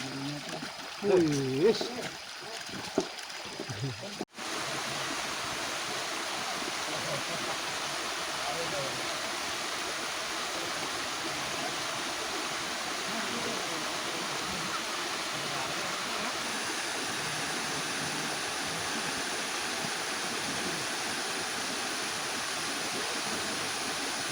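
A big river, the Sungai Prung Petoh, rushes steadily through the forest in a constant broad roar that goes on for twenty seconds, following a few seconds of indistinct talk at the start.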